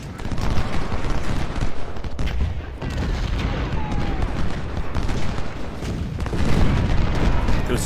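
Musket volleys crackle in Ultimate General: Civil War, a dense continuous fusillade of overlapping shots and booms rolling without pause, loud and busy throughout.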